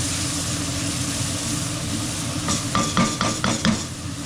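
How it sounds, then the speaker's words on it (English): Spoon scraping across a pan bottom while stirring vegetables for braised beef short ribs, several quick scratchy strokes near the end over a steady background hum. "Make sure you get across the whole bottom of the pan so you scrape off any of the fond that might be there."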